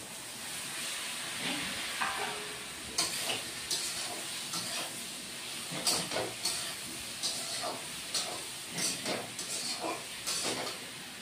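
Tomatoes fry in a pan while a Bengali aloo posto is cooked, a steady soft sizzle broken by repeated bursts of stirring and scraping, close and moderately loud with no talking.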